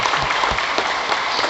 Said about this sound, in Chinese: 咱下先搁再多热烈的掌声